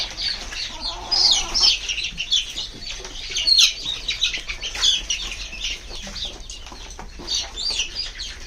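Hens on a small poultry farm cluck and squawk in overlapping bursts, close by, with a few wing flaps and faint bird chirps in the background.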